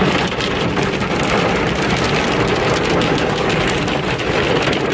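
Hail from a record 2020 Alberta, Canada hailstorm pounds a vehicle in a loud, dense, unbroken roar of impacts.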